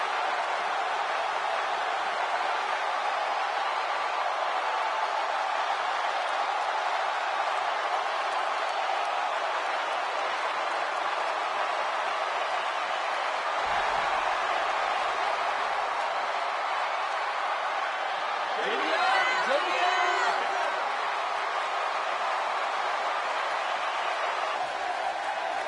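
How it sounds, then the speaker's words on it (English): Arena crowd in the WWE 2K16 wrestling video game roaring for Jeff Hardy, a dense, sustained wall of cheering throughout, with a brief louder swell near the end. "I've heard some impressive crowd responses over the years, but the response this guy gets, well, it's incredible."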